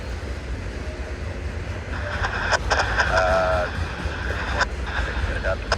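A Union Pacific freight train rolls past on the main line with a continuous low rumble and rattle, metallic squeals and clanks breaking through, and a voice talking over it.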